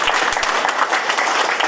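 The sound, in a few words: audience applause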